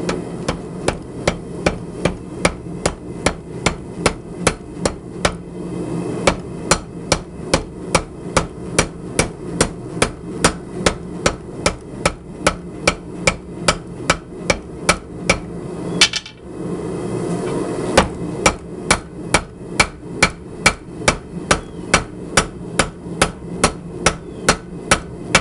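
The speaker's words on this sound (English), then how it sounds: "I'm going to use a 3-pound round-faced hammer to square off" A 3-pound round-faced hammer beating hot steel cable on an anvil during forging: steady, rhythmic, ringing blows, close and loud, repeating about twice a second with one brief pause.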